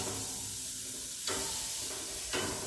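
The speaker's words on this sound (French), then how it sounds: "Je dépose mes courgettes sur la grille de mon barbecue." Courgettes sizzling on a barbecue grill, a steady close hiss and crackle with two sharper bursts as pieces are laid down, with no talking.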